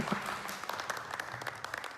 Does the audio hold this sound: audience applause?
yes